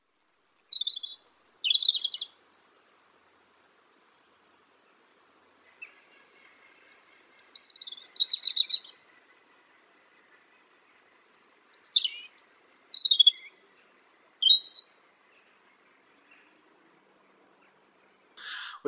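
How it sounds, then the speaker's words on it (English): Birds sing in the hedgerows in short bursts of bright chirps and trills separated by quiet gaps, moderately close and clear with no other sound around them. "the birds in the hedgerows really seem to have taken that to heart."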